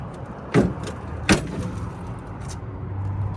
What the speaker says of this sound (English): but closing these doors.